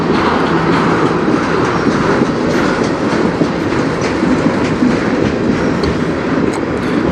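A long CN freight train rolls past close by, a loud continuous rumble with steady clickety-clack of wheels on rails and faint metallic squeals.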